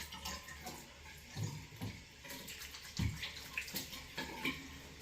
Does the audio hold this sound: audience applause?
no